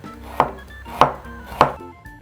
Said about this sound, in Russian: Теперь я нарежу половину красной луковицы